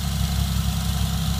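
A 1988 Oldsmobile Cutlass Ciera six-cylinder idles after a minus 22 degree cold start with no exhaust fitted, a steady, close rumble with an even low pulsing throb and no voices.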